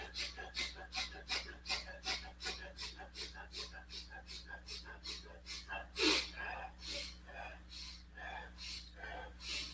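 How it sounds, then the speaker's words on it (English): Rapid, rhythmic breathing during a squat-style exercise for knee pain, with quick even breaths over a steady low hum and one louder puff midway. "we're going to start breathing a little bit faster."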